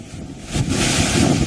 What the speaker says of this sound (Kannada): ಕೆಮ್ಮಣ್ಣುಗುಂಡಿ ಸಮೀಪ ಇರುವಂತಹ ಹೆಬ್ಬೆ ಜಲಪಾತ ಇದು